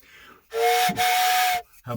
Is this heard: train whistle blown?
yes